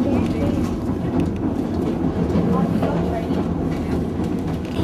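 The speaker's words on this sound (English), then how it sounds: "You can hear the little red caboose out the left" Train with a little red caboose rolling along a railway in Alaska, a steady rumbling clatter of wheels on track continuing throughout at close range.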